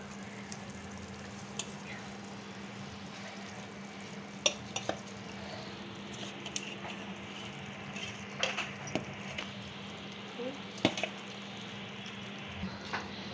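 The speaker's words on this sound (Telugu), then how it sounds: "చేపలు వేసుకున్నాం కదా, ఒక్కసారి ఇట్లా కలుపుకొని అయిపోవచ్చిందండి." A spoon stirs fish pieces into a simmering Telangana-style fish curry in a pot, giving soft scraping clinks and light knocks over a steady low bubbling, fairly quiet with no talking.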